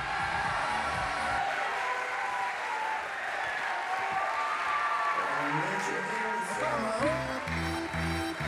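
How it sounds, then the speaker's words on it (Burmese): Studio audience applauding and cheering at a televised talent show semi-final, a dense steady wash of clapping that carries on throughout, with crowd noise and some voices rising in the later seconds. "သူတို့ကိုလက်ခုပ်တီးပြီးကြိုဆိုကြရအောင်ဗျာ"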